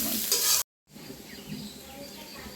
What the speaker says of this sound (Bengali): পেঁয়াজটা দু মিনিট নাড়াচাড়া করে নেব